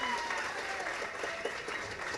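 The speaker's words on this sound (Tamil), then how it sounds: "ஒரு நல்ல கைத்தட்டல் கொடுத்துடலாம்." Audience applause at the NEEK film audio launch, a steady broadband patter of many hands clapping together without a break, with faint crowd noise mixed in.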